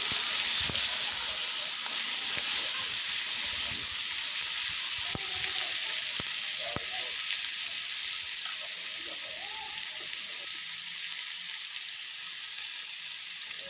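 Mustard seeds, cumin and curry leaves sizzle in hot oil with a steady, fairly soft hiss broken by scattered small pops and crackles.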